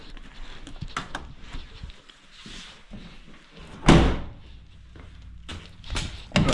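Car bonnet slammed shut on an older restored car in a garage setting, one sharp loud metallic bang standing out among smaller knocks and clunks, heard close with no talking.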